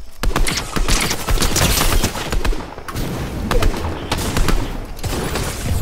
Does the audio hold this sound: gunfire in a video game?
yes